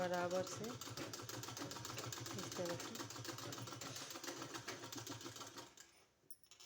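Sewing machine stitching piping onto a neck design, a fast steady mechanical rattle running continuously before slowing and stopping near the end, with brief faint speech.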